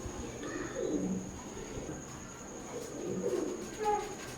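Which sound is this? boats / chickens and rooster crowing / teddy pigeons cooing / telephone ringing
teddy pigeons cooing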